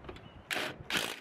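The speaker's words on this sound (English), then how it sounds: "Torque it down." A ratchet tightens one of the 10 mm bolts holding the accelerator pedal assembly to a 2006 Honda Pilot, heard as two short, close bursts of mechanical clicking with quiet gaps between them.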